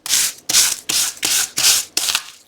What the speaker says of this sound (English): I'm going to use the sanding block for this